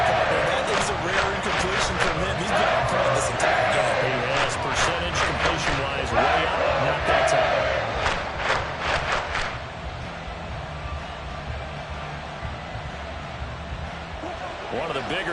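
A stadium crowd roars steadily in an American football video game as a big third down approaches. The broad, continuous noise swells with sharp bursts, then eases slightly, under near-constant announcer commentary.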